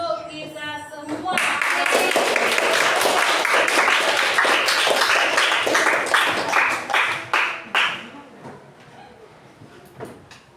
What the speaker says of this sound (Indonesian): Kita kasih aplaus dulu untuk kita semua.